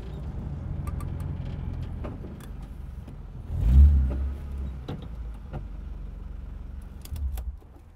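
A BMW E92 M3 rolls off to be parked, a low engine idle and rumble with a brief swell of revving in the middle, small clicks and rattles around it, and no talking.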